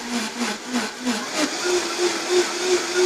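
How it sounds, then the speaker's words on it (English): A blender on low speed purees blanched asparagus and parsley into a thick green mixture, giving a steady whirring drone with a slight pulsing rhythm that stays even and fairly close throughout. "So we can start by blending. I like to start on low."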